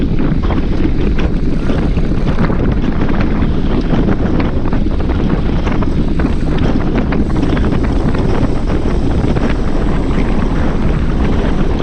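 Loud, constant wind buffeting the microphone during a group bicycle ride, a dense low roar that runs unbroken throughout, with no voices.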